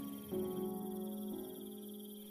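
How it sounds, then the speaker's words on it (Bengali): Crickets chirp steadily through a quiet night, a faint continuous high trill sitting beneath a low, sustained droning tone. "ঝিঁঝি ছাড়া আর কোনো শব্দ নেই।"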